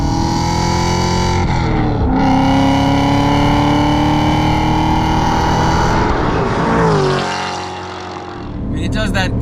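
A tuned 1,000 hp Hennessey CT5 Blackwing roars hard under acceleration on the street, its loud engine note climbing in pitch through the gears, with brief dips at the shifts and a voice heard in the cabin.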